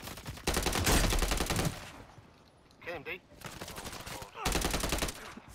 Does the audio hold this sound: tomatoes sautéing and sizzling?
no